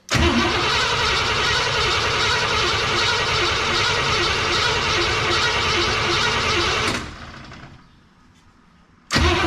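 A 1961 Cadillac engine cranks steadily on the starter for about seven seconds without catching, drops to near silence, then cranks again briefly at the end.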